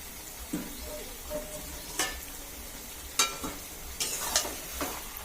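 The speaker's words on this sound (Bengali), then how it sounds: "এবার একটু নাড়িয়ে নিচ্ছি।" Chicken frying with ground cumin in a pan sizzles softly while a spatula stirs it, leaving about half a dozen distinct scrapes and knocks over the hiss.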